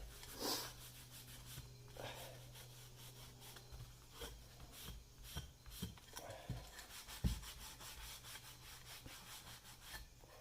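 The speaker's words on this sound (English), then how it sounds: "maybe I can hit it with sandpaper" Sandpaper rubs over the cabinet of an AirKing 4000A radio in quiet, repeated back-and-forth scratchy strokes, close but faint, with small knocks between passes.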